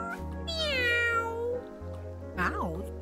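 A cat in the video game Calico meows several times, drawn-out rising and falling game meows over a steady music bed, with a player talking alongside.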